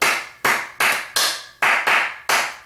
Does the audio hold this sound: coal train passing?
no